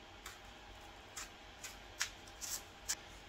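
A zipper pouch of mapo tofu sauce mix is pulled open, giving a string of faint, crisp clicks and ticks spaced unevenly over a few seconds in a quiet room.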